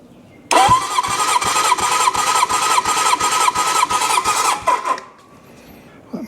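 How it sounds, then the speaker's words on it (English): A 1972 Honda CB750 Four engine cranking on the starter during a compression test, a loud, rapid, even chugging rhythm for about four seconds before it stops. "Let me stand over here and crank again"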